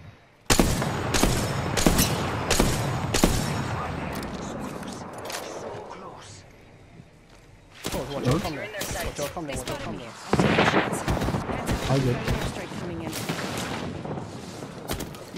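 Rapid bursts of gunfire from the video game Apex Legends rattle through a heavy firefight, loud and near, with a brief lull in the middle before shooting resumes; a voice talks over the action.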